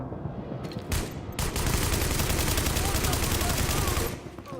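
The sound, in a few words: gunfire in The Division video game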